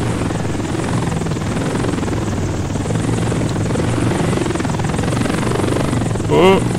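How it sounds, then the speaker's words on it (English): A steady helicopter rotor drone in the video game Desert Combat fills the whole stretch, loud and continuous, with a brief electronic blip near the end. "can I take off with this helicopter before it blows up?"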